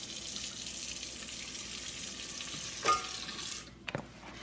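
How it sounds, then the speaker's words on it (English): Flour dough being kneaded by hand for boiled dumplings in a home kitchen, a steady wet squishing and slapping texture with a couple of sharper knocks near the end, no talking. "So I'm kneading my flour."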